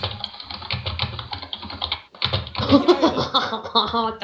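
Close-miked computer keyboard typing during a German multiplayer session of the strategy game Die Gilde 2, rapid clattering keystrokes running throughout alongside people talking over voice chat.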